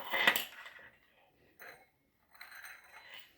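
Metal measuring spoons clink against a bowl or container while teaspoons of sugar are scooped out, giving a sharp clatter and then a few softer, separate taps with quiet pauses between.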